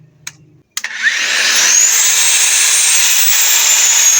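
An angle grinder switches on after a couple of brief clicks and spins up to a steady high-pitched whine, loud and close, running alone before work on a pipe at a solar installation.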